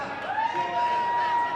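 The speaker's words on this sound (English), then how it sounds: "there's fans cheering her" Fans at a wrestling match featuring Tessa Blanchard cheer and whoop in a steady roar of crowd noise, with a rising shout standing out above the din.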